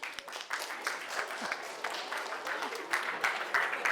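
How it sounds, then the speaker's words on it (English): An audience of students in a medical lecture hall claps for a classmate, a dense, sustained round of applause with individual sharp claps standing out, fairly loud and close. "a big round of applause for him"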